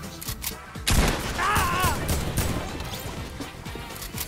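Rapid bursts of gunfire and crashing impacts from a Fortnite battle royale match, dense and loud, with a brief tonal game effect in the middle and voices talking over it.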